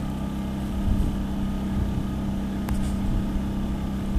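Smarter Tools portable generator running outdoors, a steady low engine hum with a constant tonal drone, close and unchanging over a few seconds, with slight wind noise.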